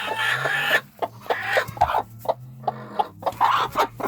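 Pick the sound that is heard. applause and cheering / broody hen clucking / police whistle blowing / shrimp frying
broody hen clucking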